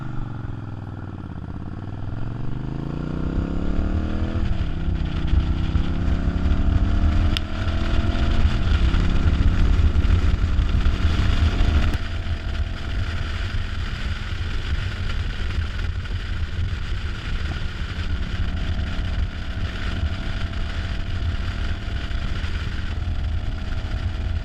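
A Suzuki S50 motorcycle rides on a crisp fall day, its engine droning loud and steady with rising and falling pitch as it shifts through gears, wind buffeting the microphone throughout.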